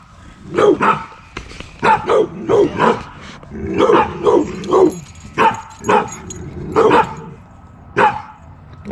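Puppy barking and yipping, a rapid series of loud, close, sharp yips and barks in an uneven rhythm, filling the whole stretch without talk.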